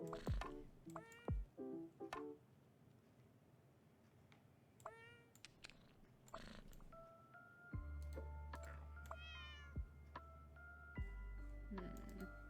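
Several cartoonish cat meows from a cozy cat-arranging puzzle video game, scattered through the clip and alternating with soft game tones and a steady low hum, with a person speaking briefly in places.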